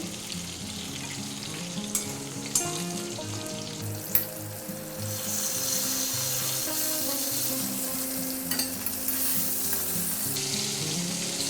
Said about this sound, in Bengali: এইভাবে লাল লাল করে ভেজে নিতে হবে।